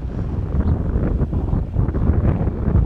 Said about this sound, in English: Oh yeah, here comes the wind now.